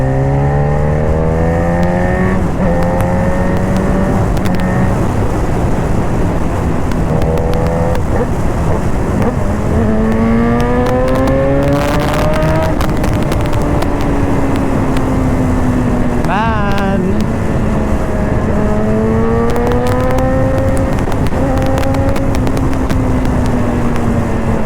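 Liter-class BMW S1000RR sport motorcycle ridden in race mode, its engine revving hard through repeated rising accelerations and gear shifts, loud and close throughout with heavy wind noise.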